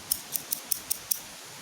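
Scissors snip freshly picked taro leaves in six quick, crisp cuts at a steady pace, close up over a quiet background with no talking.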